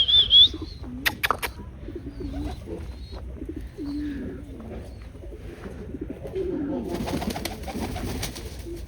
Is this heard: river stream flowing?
no